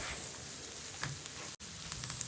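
Chopped onions, three medium-sized, sautéing in hot oil for a spinach chicken curry, giving a steady soft sizzle and crackle throughout with a few small pops, fairly quiet and close, with no one talking.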